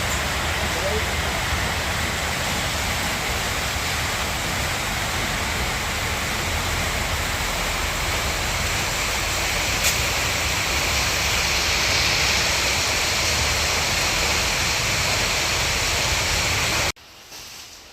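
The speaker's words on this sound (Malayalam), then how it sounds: "ഷീറ്റിൽ വെള്ളം വീഴുന്നതുകൊണ്ട് സൗണ്ട് കുറവാണേ" Heavy rain pours onto a sheet roof in a dense, unbroken hiss that holds steady for most of the stretch before cutting off abruptly near the end.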